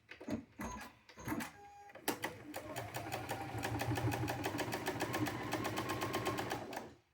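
A sewing machine stitches in short bursts at first, then runs steadily in a fast, even mechanical rhythm for several seconds before stopping, close and fairly loud with no talk over it.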